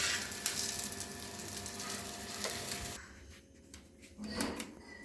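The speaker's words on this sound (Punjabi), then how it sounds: "ਇਹ ਆਪਾਂ ਇਸੇ ਤਰ੍ਹਾਂ ਸਾਰੀਆਂ ਤਲ ਲਵਾਂਗੇ" Soft sizzling of lentil kebab patties made with paneer and potato shallow-frying in a pan, a moderate, steady hiss that thins out toward the end.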